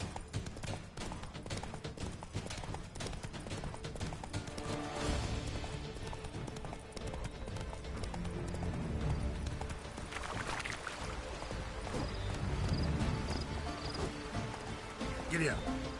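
Horse hooves clip-clop at a fast gallop in the Witcher 3 video game, a steady rhythmic pounding running throughout, with a voice speaking over it.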